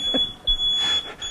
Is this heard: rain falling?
no